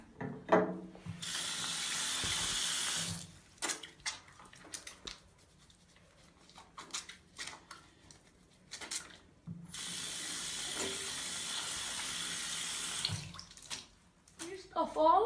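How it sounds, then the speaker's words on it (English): Tap water runs into a kitchen sink in three separate bursts while hands are washed before cooking, with quiet handling noises and pauses between the flows. "Don't forget to wash your hands."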